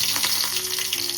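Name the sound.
curry leaves added to hot oil, sizzling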